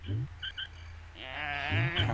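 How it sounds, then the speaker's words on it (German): Sheep bleating in the video game Oddworld: Munch's Oddysee, a couple of short wavering bleats in the opening half followed by a longer, louder quavering bleat, with faint game ambience underneath. "Schaf."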